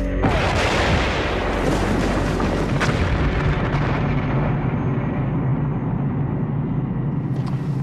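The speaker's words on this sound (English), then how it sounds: "the Bangalore torpedo has blown a channel right through our barbed wire entanglement" A Bangalore torpedo detonates to blast a channel through a barbed wire entanglement, a loud booming roar that rolls on for several seconds and slowly dies away.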